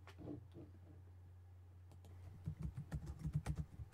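Keyboard typing in the second half, a quick run of sharp clicks over a steady low hum, fairly close and alone with no talk.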